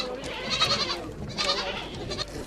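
Goats in a corral, with mothers and kids gathered together on a dry island farm, bleat in several overlapping calls, close and clear, with no talking over them.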